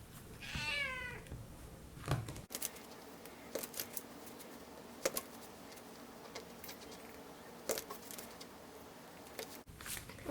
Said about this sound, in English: And that's why you're here meowing.